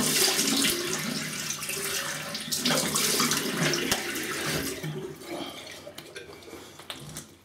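A razor is rinsed under running tap water, a steady close splashing rush that trails off toward the end.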